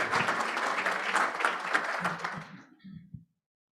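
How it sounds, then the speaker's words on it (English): An audience applauds after a presentation at a weekly meeting, a short burst of clapping that stays steady, then thins to a few scattered claps before it stops abruptly. "Let's give Deandra a round of applause."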